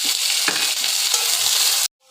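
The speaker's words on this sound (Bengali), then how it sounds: "এবার আমি দিয়ে দিলাম কুচি করে রাখা পেঁয়াজ ও কাঁচা লঙ্কা।" Chopped onion and green chili hit hot oil already seasoned with five-spice and dried red chili, giving a loud, steady, close sizzle with light stirring that cuts off abruptly near the end.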